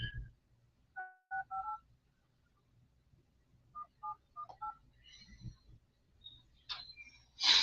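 A telephone keypad dials a number: two quick groups of dual-tone button beeps separated by a pause, clear and close in a quiet room, followed by faint clicks and a brief ringing tone near the end.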